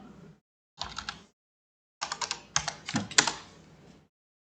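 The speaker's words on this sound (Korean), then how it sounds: "노란색은 스페이스바를 누르면 돼요" Keys tapped on a computer keyboard during tax accounting data entry, including presses of the space bar: a short burst of clicks, a pause, then a longer quick run of close, crisp keystrokes.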